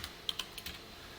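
A computer keyboard being typed on while writing HTML and CSS code: a few soft, scattered keystroke clicks, quiet and close, with no talking.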